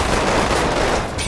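Rapid automatic fire from Resident Evil Umbrella Corps, set in an Antarctic base, crackling as a loud, unbroken burst from start to finish.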